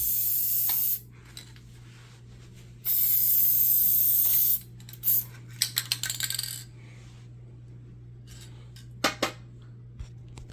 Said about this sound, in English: do some one-shot lube.